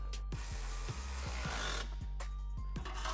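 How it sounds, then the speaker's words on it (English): Original exhaust hanger bolt being tightened on a 2018-2023 Mustang GT during a Borla catback install, a close series of quick ratcheting clicks at an uneven rhythm over a low steady hum. "With the hanger in place, reinstall the original bolt and tighten it down."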